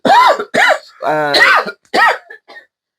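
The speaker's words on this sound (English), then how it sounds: "maybe I can't because I'm coughing" A few harsh, throaty coughs in quick bursts close to the mic, with short pauses between them and a faint trailing rasp at the end.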